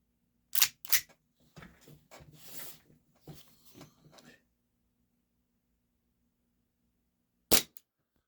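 HFC DarkHawk gas blowback airsoft pistol on red gas firing 0.20 gram BBs: a couple of sharp close cracks, some fainter clicks and rustles, then a single loud shot after a pause.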